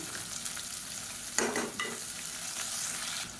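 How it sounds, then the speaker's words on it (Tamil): Sliced onions frying in a pan for a Tamil kuzhambu curry, a continuous sizzle broken by a couple of sharp stirring scrapes, close and clear with no talk. "இப்போ இந்த வெங்காயம் வதங்கிட்டு இருக்கையிலே"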